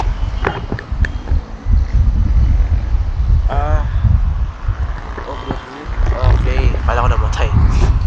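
Wind buffets the microphone in heavy gusts while a person talks over the rumbling noise.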